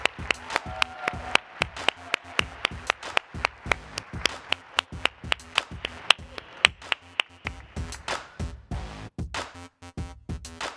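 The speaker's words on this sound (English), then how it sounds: "Please, everybody, give them a round of applause." An audience claps for a panel at a public forum on violence prevention for boys. The applause is sustained and close, with crisp, rapid hand claps that rise and then thin out, and almost no talking.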